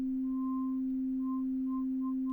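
An Arturia B3-V organ drawbar modulated by a slowed sine wave holds a steady tone, with a higher overtone pulsing in and out in slow, regular swells; faint and alone.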